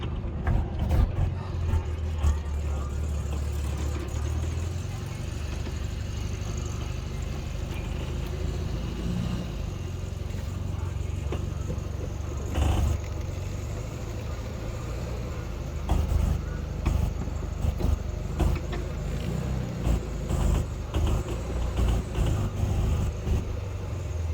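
A 1972 Volkswagen Super Beetle creeps into an inspection bay, its air-cooled engine a steady nearby drone with mechanical clicks and clunks, ending in a few irregular knocks.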